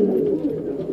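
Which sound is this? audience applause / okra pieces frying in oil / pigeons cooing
pigeons cooing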